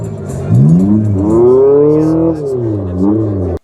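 Synthesized engine note from an electric hot hatch, imitating a four-cylinder turbo, rising and falling in pitch through a steady rev for a few seconds, loud and close, with a voice speaking over it.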